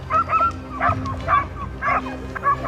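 Hunting dogs on a wild boar hunt give repeated loud barks, yips and whimpers in uneven bursts, close to the microphone, with no talking.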